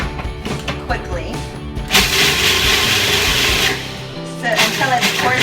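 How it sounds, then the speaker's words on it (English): A food processor grinds a cup of oats in a loud, steady whirring burst that runs for a couple of seconds and then cuts off, with quieter handling sounds before and after. "we're going to add about a cup of oats into our food processor, and we're just going to grind that quickly"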